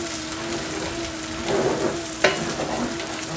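Shrimp paste mixture sizzling and bubbling in a pan on high heat while being made for crab noodle soup; a steady close fry hiss with a few brief pops and a sharp crackle near the end.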